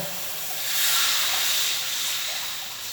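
A pot of pork simmering in fish sauce and water, giving off a steady, fairly loud hiss of bubbling and steam that swells slightly midway and holds on without talk.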